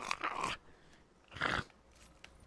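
A dog growling during play, two short, rough snarling bursts about a second apart with quiet in between.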